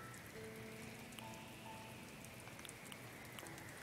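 Steady rain patters down in Animal Crossing, a soft, even hiss of drops on surfaces, quiet and continuous, with faint game chimes now and then.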